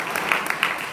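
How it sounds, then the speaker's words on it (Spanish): A church congregation claps during a Spanish-language sermon, producing a brief burst of moderately loud applause with a few sharper individual claps standing out. "Denle ese aplauso al Señor Jesucristo si sientes agradecimiento para Él."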